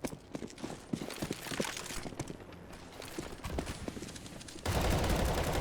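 Pistol gunfire in Counter-Strike on the Cache map, rapid scattered shots from several guns crackling through a busy match, a sharper burst of sustained fire near the end.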